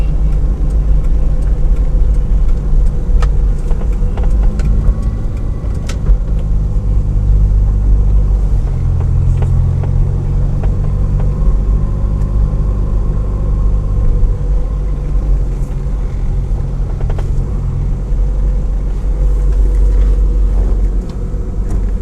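A car rolls along a bumpy rural road near an estate in St. Elizabeth, Jamaica, with a steady, close engine rumble and low road noise lasting throughout, with no talking.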